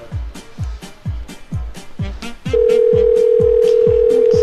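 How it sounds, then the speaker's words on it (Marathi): A telephone sounds loudly nearby, first as a quick series of rhythmic repeated pulses, then as a steady, unbroken tone that holds to the end. "तुमचा फोन वाजतोय वाटत"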